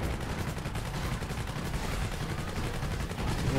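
Rapid gunfire from the video game Prototype, a dense continuous barrage of shots running throughout with no pauses, loud and close, with no talking over it.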